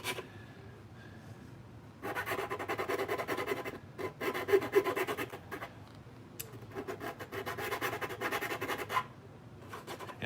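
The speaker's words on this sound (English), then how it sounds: "before I stick the big file in, or the big sanding disc in" Hand filing or sanding on a Mandalorian helmet build, with bursts of raspy scraping strokes in several runs separated by quieter pauses, close and moderately loud, no talking.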